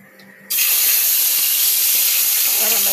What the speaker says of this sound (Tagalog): At ako'y magpiprito ng isda.